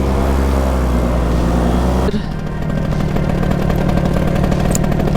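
A paramotor engine idles while warming up, running loud and close with a steady buzzing drone; its pitch shifts partway through and the engine settles into a rougher, pulsing idle.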